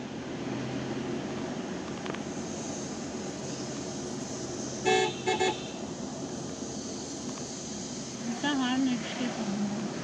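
Car horn honking on a winding mountain road to the Kodaikanal hill station, two short toots heard from inside a moving car over steady road rumble, with people talking throughout.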